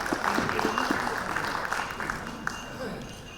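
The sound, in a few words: audience applause for speaker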